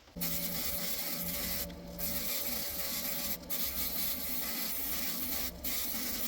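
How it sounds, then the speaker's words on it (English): Jasper stone pressed against a 100 grit expando sanding wheel gives a steady, close abrasive rubbing whir that holds for several seconds, broken by a few brief gaps as the stone is lifted. "take it over here to the 100 grit expando wheel, sandpaper, and we're going to kind of further smooth this out"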